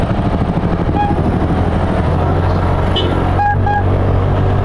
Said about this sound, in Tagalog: ganda ng busina ni Kuya.